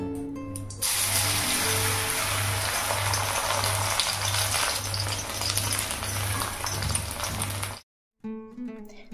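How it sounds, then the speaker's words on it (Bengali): Marinated vegetables in flour and gram-flour batter fry lightly in a little oil, a loud continuous rain-like sizzle with a pulsing low hum, cutting off abruptly near the end. "হালকা একটু এদিক ওদিক করে কম তেলের মধ্যে নেড়ে নিচ্ছি"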